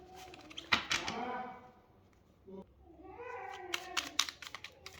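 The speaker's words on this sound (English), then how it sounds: "If you can hear my dog whine" Indoors, a dog whines in soft, drawn-out falling cries at low volume, broken by scattered clicks and taps that sound like typing.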